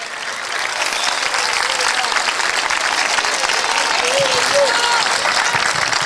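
A church congregation claps loudly and continuously during a sermon, a dense, even wall of applause with faint voices mixed in.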